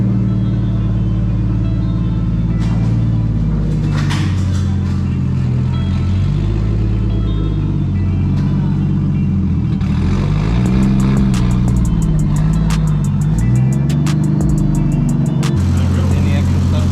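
Stock Nissan RB20 engine with a top mount turbo kit idling and revving, a loud deep rumble with several rising and falling revs and some mechanical clatter, heard up close.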